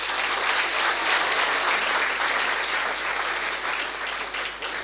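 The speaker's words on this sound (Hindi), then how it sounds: "इनके नाम पे ताली बजा दो भाई जरा" Steady, dense clapping fills a hall as a student gathering on entrepreneurship applauds, loud and sustained for several seconds.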